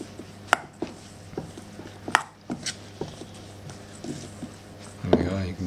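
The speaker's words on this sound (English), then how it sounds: "Mix that into the stuffing." Olive oil being worked into a sardine stuffing in a bowl, with a series of sharp utensil clicks and taps at an irregular pace and a brief rougher scraping burst near the end.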